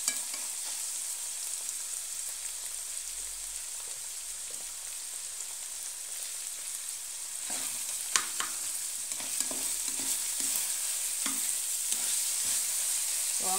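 Mixed vegetables including broccoli are stirred in a hot pan, a constant frying sizzle under intermittent scraping and tossing sounds from a utensil that grow busier toward the end, with no talking.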